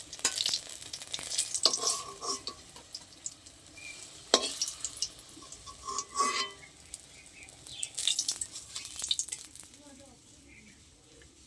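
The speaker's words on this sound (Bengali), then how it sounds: "আমি তুলে নেব, এরকম লাল লাল করে ভেজে নেব।" Eggplant frying in hot oil, reddish-brown, with bursts of crackling sizzle and stirring clatter coming and going, close by, while someone talks quietly in the background.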